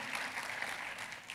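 A church congregation breaks into applause during a family sermon, a soft, even patter of many hands heard faintly at a distance with no voices over it.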